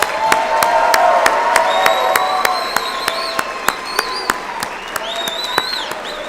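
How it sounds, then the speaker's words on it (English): Applause from an audience at a youth citizenship awards ceremony in Colorado Springs after a Christmas music performance, with distinct individual claps ringing out over a crowd murmur and a few whoops of cheering, thinning toward the end. "If we could just give them all one more round of applause."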